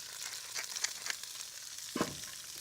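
Grape tomatoes and minced shallot cook in a pan with a faint, soft sizzle, broken by a few light taps and one brief clatter near the end, heard alone.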